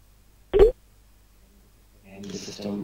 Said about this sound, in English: the system will start dialing to this number